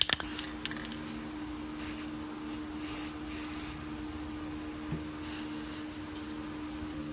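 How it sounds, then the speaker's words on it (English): Aerosol paint sprayed onto a Chevy C10 grill in short, close hissing bursts separated by pauses, with a few light clicks at the start and no talk. "Now we're gonna coat the crap out of it in paint."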